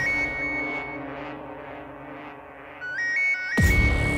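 A short electronic ringtone melody of rising beeps plays over a soft droning background, then a sudden loud burst cuts in.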